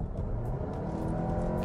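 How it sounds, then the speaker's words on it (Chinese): A Volkswagen Tayron SUV with a 2.0T engine and a wet dual-clutch gearbox pulls away from about 58 km/h in sixth gear. A steady, close engine drone and road hum are heard from inside the cabin, with no talking. "我们再去做一下这个简单的加速啊"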